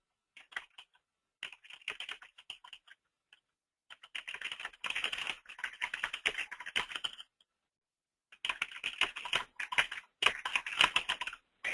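Bursts of rapid typing on a computer keyboard in a word-processing session, close and clear, with short pauses between runs of keystrokes and no talking.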